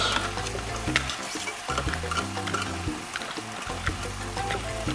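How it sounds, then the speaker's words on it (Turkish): Meat sizzles and crackles in a hot pan, with scraping and stirring sounds breaking in irregularly over a steady fry. "Etim de pişiyor"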